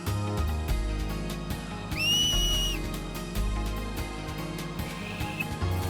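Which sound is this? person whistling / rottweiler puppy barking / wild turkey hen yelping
person whistling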